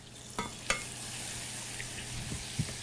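Rice is stirred in a pan of melted butter and oil, a faint continuous sizzle broken by a few soft scraping clicks of the spoon.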